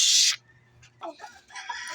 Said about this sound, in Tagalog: Ito yung mga alaga nating manok ng birthday.